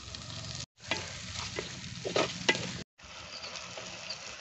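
Tomatoes with a little salt fry in a pan for egg biryani, a close, continuous sizzle and crackle with light stirring, broken by two short silent gaps.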